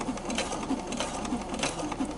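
A sewing machine runs steadily at about stitch setting 4, its needle stitching in a quick, even mechanical rhythm at close range, with no talking.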